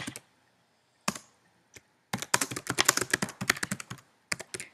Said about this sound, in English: I can type those options into this box